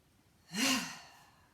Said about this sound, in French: Grande respiration.